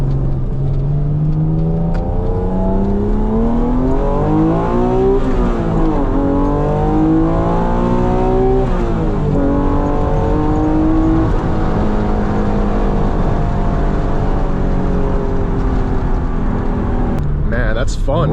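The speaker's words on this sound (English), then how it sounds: "So we'll do a little first gear pull here and see what it's like." A 1996 Acura NSX engine at full throttle in first gear, heard from inside the car, rising in pitch and dipping at shifts. A loud steady whine with no talking.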